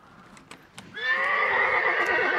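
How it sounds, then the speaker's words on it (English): In the video game Hunt: Showdown, a horse lets out a loud, drawn-out neigh after a few faint hoof taps and thumps, the whinny holding strong for over a second. "And there goes that fucking horse."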